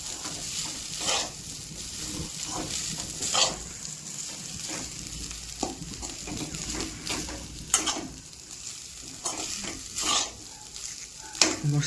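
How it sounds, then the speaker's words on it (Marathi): Leftover cooked rice is stir-fried in a pan: a steady sizzle runs under repeated scraping and tossing strokes from a spatula, close and moderately loud. "भात टाकून घेते. चांगलं त्याला परतून घ्यायचे."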